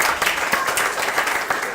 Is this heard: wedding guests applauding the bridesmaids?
yes